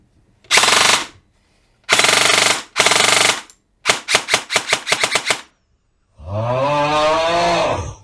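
A Classic Army CA5A2 MP5 airsoft gun being tuned, with an SHS bevel gear and a Classic Army motor, firing several loud close bursts and a string of quick single shots, then a long whining gearbox burst.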